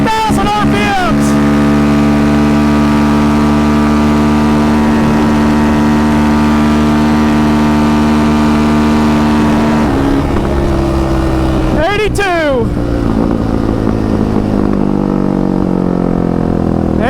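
Big 5 Raptor ATV engine accelerating hard through second, third and fourth gears, a loud close drone with rising shifts that drops after ten seconds, followed by a quick upward rev and an easing roar.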